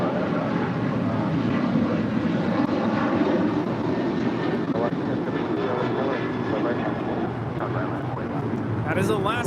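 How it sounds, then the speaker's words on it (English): An Alaska Airlines Boeing 737-900ER departs from LAX for Los Cabos, its jet engines a loud, steady broadband roar that holds through the clip, with voices talking over it. "That is Alaska 1388 departing to Los Cabos on a 737-900 ER."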